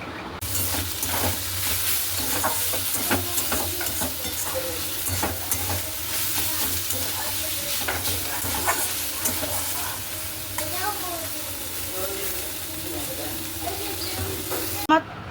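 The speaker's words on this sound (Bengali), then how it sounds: "ওটা নেমে গেলে তারপরে থোর ছেঁচকিটা বসিয়ে দেবো" Banana stem (thor chhechki) being stir-fried in a pan, a continuous sizzle and hiss with scraping stirs throughout, close and steady.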